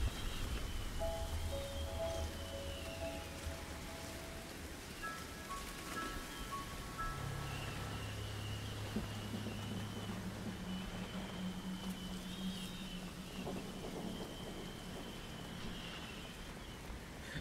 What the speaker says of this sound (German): jetzt kommt auch der Regen hier richtig zum Vorschein